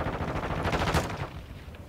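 Rapid automatic gunfire in Call of Duty Warzone 2.0 rattles out in a fast, close, loud burst of repeated shots that tails off near the end.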